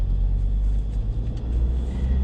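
Inside a 2019 Ford Ranger Wildtrak on the move, a low steady rumble of road and tire noise fills the cabin, deep and even with no talking.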